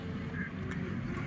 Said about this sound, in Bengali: হাঁসও ছোটাছুটি করছে মাছের সাথে